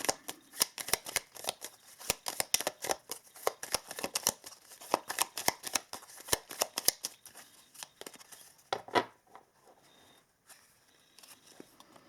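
A deck of Chakra Love oracle cards being shuffled by hand, a fast run of crisp riffling snaps for about eight seconds, then a few slower shuffles and soft card handling.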